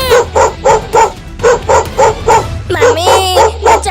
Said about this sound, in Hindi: देखो ये भौंक रहा है।